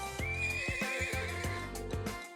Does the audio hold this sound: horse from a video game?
yes